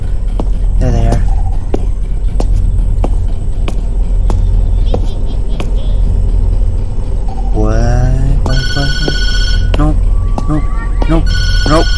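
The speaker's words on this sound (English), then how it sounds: "time to go to bed and leave the phone ringing" An old telephone rings in the horror video game Tattletail, sounding repeated electronic rings in the second half over loud, busy game noise while a voice talks.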